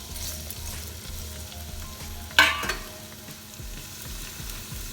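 Potatoes frying in hot oil, a steady low sizzle and crackle close by, with one sharper spatter or scrape partway through.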